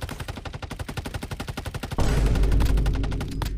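Rapid automatic gunfire from the mobile shooter Warzone Mobile rattles in a steady fast burst, then gives way to a louder, sustained blast-like roar that slowly fades.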